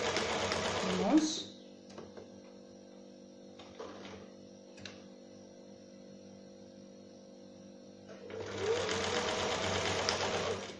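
A sewing machine stitches a sleeve cuff on a summer garment, running in two loud, steady bursts at the start and end with a quieter gap between them.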